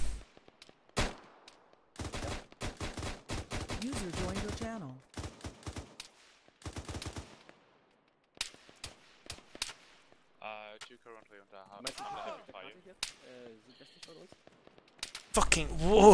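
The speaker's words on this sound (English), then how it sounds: "We're under a lot of fire here." Gunfire in the military game Arma 3: sharp, cracking shots and rapid bursts of varying distance break out across the scene, mixed with stretches of voices talking over radio.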